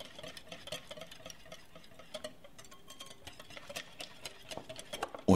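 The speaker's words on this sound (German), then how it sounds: "Für die Geschmeidigkeit des Teiges etwas Öl oder flüssige Butter unterrühren." Oil or melted butter stirred into crêpe batter in a bowl, a steady run of soft rhythmic clicks and light patters from the whisk or spoon, close and fairly quiet throughout.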